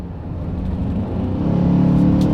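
A 2019 Ford Ranger with the 2.3 engine accelerates in sport mode, its engine note rising in a loud, close rumble from inside the truck.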